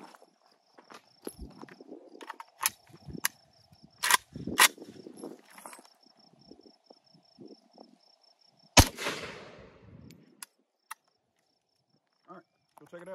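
A 16 inch AKM rifle firing 123 grain 7.62x39 full metal jacket rounds at armor plates outdoors: one loud, distant-sounding sharp shot with a decaying echo, among scattered clicks and handling noises in a quiet setting.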